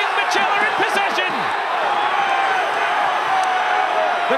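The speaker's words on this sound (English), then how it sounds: "The crowd are howling for Rouge." Loud roaring football crowd at an A-League match between Perth Glory and Western Sydney Wanderers, a dense sustained howl filling the whole clip, with a commentator talking over it.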